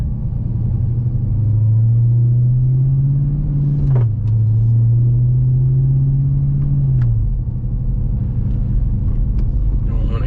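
A 2021 Dodge Challenger Hellcat widebody sits idling as it warms up, a steady, loud low rumble with a smooth drone that dips briefly once partway through, unbroken from start to finish.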